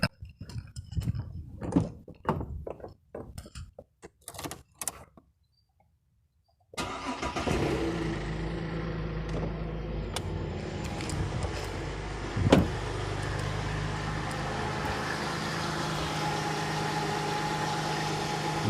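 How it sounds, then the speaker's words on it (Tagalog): A 2006 Holden Commodore: after a few sharp clicks and knocks, the engine cranks and catches abruptly, then settles into a steady close idle with a brief louder rev-like bump partway through. "we will be starting the engine"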